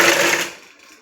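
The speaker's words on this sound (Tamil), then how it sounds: "அப்படியே நீட்டாக தைச்சிக்கிட்டு வர வேண்டியதுதான்." A sewing machine runs fast and steadily, stitching a blouse hook strip, its close whirring hum fading out and stopping partway through.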